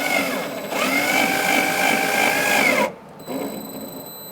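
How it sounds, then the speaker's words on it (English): A cordless power driver runs screws that fix the bumper to the body of a 2010-2013 Kia Soul. It gives a sustained whirring run with rising and falling pitch, then cuts off abruptly and is followed by a brief, quieter second burst. "now we're going to put our screws to connect our bumper to the body"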